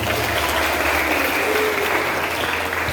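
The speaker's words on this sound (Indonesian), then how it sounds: "Tepuk tangan untuk kita semua." A congregation at a Christmas service for children's mission day bursts into loud, sustained applause in a reverberant hall, dense clapping holding level throughout with a faint murmur of voices beneath.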